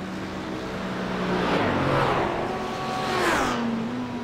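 Two McLaren race cars in the iRacing game roar past one after the other on the Interlagos circuit, each engine note rising and then falling as it sweeps by close.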